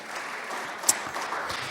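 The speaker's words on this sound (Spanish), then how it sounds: "Denle un fuerte aplauso a Él en esta noche." A church congregation applauds during an evening service, a dense, steady round of clapping filling the room with one sharper clap standing out.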